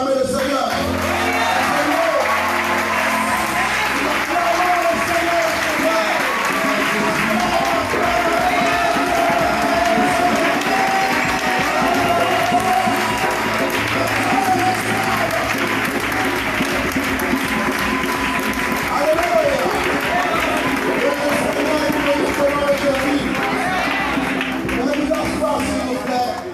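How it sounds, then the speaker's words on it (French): A church congregation applauds and acclaims the Lord during a worship service, with steady, loud clapping and scattered shouts and whoops that fill the whole stretch without a break. "Est-ce que quelqu'un peut acclamer le Seigneur?"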